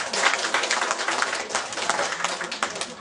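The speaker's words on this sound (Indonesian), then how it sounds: "kita beri tepuk tangan dulu, Pak" Applause from a small neighbourhood crowd at an RT community leader election gathering, dense and steady clapping throughout, fairly close and moderately loud, with no talk over it.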